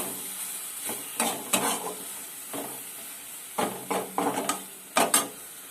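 Taro leaves (kochu shak) get stirred in a pan, with a quiet sizzle under repeated scraping strokes that come in short bunches, close by and without speech.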